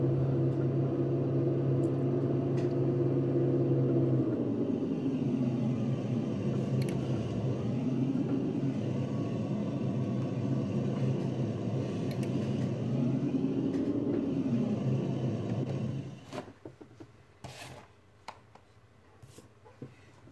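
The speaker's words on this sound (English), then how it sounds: "I think we're gonna have to park the truck over there." Steady low engine rumble of a truck driving in Farming Simulator 19, holding for about fifteen seconds with slight pitch shifts, then cutting off abruptly into near silence broken by a few faint clicks.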